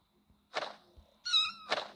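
A cat meows nearby between a few soft bumps and rustles, one clear tonal meow in the middle of short noisy bursts.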